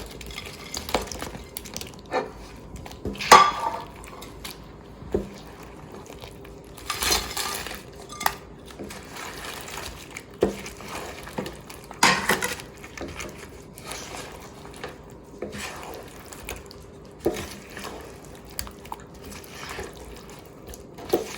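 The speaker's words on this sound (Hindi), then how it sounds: "अब इसमें हम सारी ये चिकन डाल देंगे" Chicken pieces tipped into orange sauce in a pan, followed by scattered clinks and scrapes of a utensil against the cookware and soft wet stirring, fairly quiet throughout.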